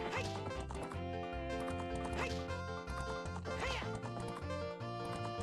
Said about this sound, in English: horse racing